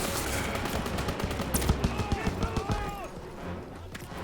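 An MG machine gun fires in the Call of Duty WWII game on Veteran difficulty, rapid rhythmic bursts of loud shots over a noisy battlefield mix that eases off toward the end.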